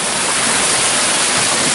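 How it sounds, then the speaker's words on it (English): Water pours steadily down a newly built backyard waterfall beside an 18-foot retaining wall of concrete panels and overhanging rocks, a loud, continuous rushing wash with no voices. "Check out this waterfall."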